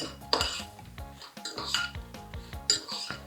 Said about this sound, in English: all I need to do is to mix them with the sugar